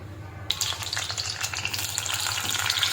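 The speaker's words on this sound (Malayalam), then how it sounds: "അപ്പോൾ ഇതിലേക്ക് നമുക്ക് പാവയ്ക്ക ഇട്ട് വറുത്തെടുക്കാം." Bitter gourd pieces hit hot oil in a pan and burst into a loud, steady sizzle that starts abruptly and keeps crackling and popping with no one talking.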